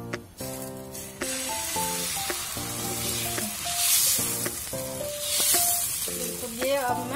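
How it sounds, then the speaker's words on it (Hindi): Dosa batter spread on a hot tawa sizzles in a steady, close hiss that swells in places, heard beneath a layer of tonal background music. "इसी में मैं ये डोसा का घोल जो था वो डालूंगी"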